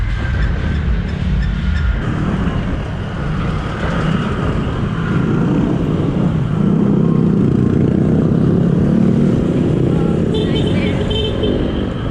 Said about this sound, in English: we found a guy on a motorbike willing to give us a lift across town